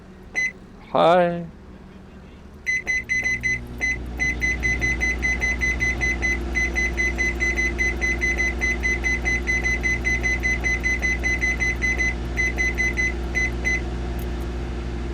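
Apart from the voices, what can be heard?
microwave oven running in the video game Cooking Simulator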